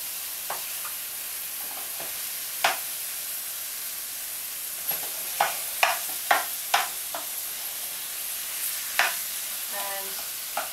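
Firm silken tofu sizzles steadily while being scrambled in a frying pan, with scattered scraping and stirring clicks from a utensil over the constant hiss.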